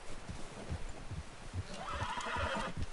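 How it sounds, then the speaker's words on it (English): A horse in Red Dead Redemption 2 whinnies, a rising neigh over close, rhythmic hoof clip-clops and some rustling movement. "O cavalo não quer correr, não, ele quer dançar aqui."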